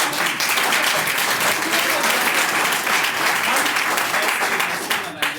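A live audience applauds at a product training session in Togo, dense sustained clapping filling the room for about five seconds before easing slightly at the end, with voices mixed into the crowd noise.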